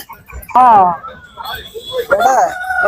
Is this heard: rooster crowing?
yes